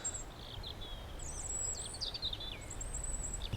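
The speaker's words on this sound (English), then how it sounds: "Birdsong has intensified." Woodland birdsong in the Forest of Dean on a brightening, misty morning: several high chirps and warbling phrases from birds at a moderate distance, repeating over a steady low outdoor rumble.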